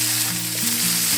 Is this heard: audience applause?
no